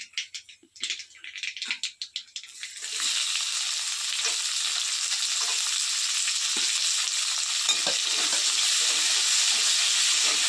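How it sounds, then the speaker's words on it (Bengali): Onions sizzle and crackle steadily in hot oil, a dense, continuous frying hiss after a few seconds of stirring and clatter at the start. "পেঁয়াজটা ভালোভাবে ভেজে নেবো।"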